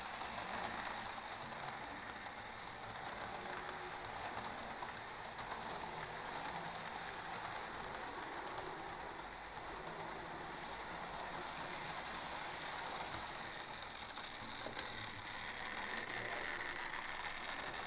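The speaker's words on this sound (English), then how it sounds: "this is a locomotive, a steam locomotive with a long chassis, and it's probably touching in certain points" A model steam locomotive with a long chassis rolls over a scratch-built level crossing, giving a steady close rattling and clicking of wheels on track that runs without pause, with no voices.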